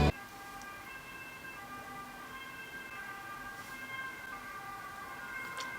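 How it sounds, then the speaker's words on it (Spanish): Ambulance siren wailing steadily for several seconds at moderate distance, its tone holding level with no voices over it. "Esta ambulancia."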